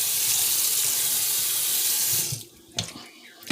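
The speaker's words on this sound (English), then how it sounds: "here I just emptied it out into the strainer, and I'm going to rinse it real quick" Running tap water splashes onto food being rinsed in a strainer at a kitchen sink, a loud steady rush that cuts off partway, leaving a few drips and clunks.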